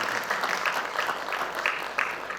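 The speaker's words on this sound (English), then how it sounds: "Give round of applause for the team Cloud9." A crowd at a yoga day event claps for a team in fairly distant, moderate applause, with a steady wash of hand claps and a few louder accents.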